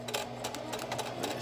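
A sewing machine backstitches while a zipper is being added, a brief, fast, even mechanical rattle heard up close with nothing else over it.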